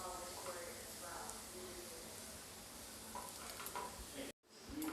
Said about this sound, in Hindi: अब मैं इसे अच्छी तरीके से एक बार मिला दूँगी सब पूरे सब्ज़ी के साथ